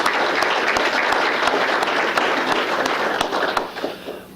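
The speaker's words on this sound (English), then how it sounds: "let's have a round of applause for all those individuals." An audience claps steadily for award recipients at a mayor's employee recognition ceremony, a dense, continuous round of applause that tapers off near the end.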